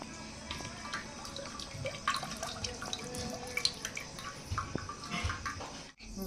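Steady trickling and splashing of water pouring from a large coconut into a container, with small drips and gurgles throughout, close by and moderately loud.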